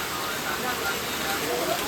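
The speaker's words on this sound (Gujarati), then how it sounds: "ખૂબ જ જોરદાર વરસાદ આવી રહ્યો છે" Heavy monsoon rain pours down at Girnar, Junagadh, in a dense, continuous hiss, steady and loud with no breaks.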